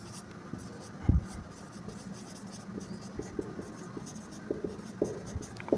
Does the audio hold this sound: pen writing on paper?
yes